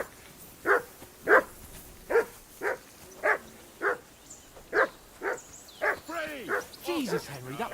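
A dog barks in the medieval role-playing game Kingdom Come Deliverance 2, giving about a dozen sharp, evenly spaced barks close by. Near the end the barks turn into whining yelps and a voice speaks over them.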